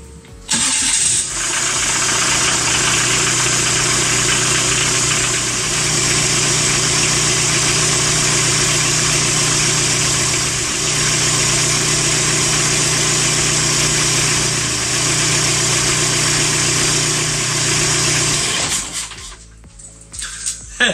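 A Kubota V2403 diesel engine fitted in a right-hand-drive TJ Wrangler cranks, catches and settles into a steady, loud idle running close by for about seventeen seconds before shutting off.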